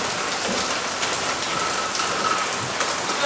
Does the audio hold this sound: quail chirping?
no